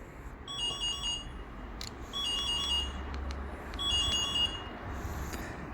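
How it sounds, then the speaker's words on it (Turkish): A Yuki Tron YK-48 electric scooter's locator alarm chirps in three separate bursts of rapid high beeps in a parking lot, over a steady low rumbling background. "Motorunuzun yerini otoparkta bulmak istediğinizde şu butona basarak alarm çaldırabiliyorsunuz."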